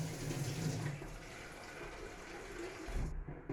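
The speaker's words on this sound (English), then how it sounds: "we'll just boil up a little bit of" Water runs steadily from a tap into a pot in a home kitchen while soup is being made, a continuous close splashing hiss that ends with a clunk.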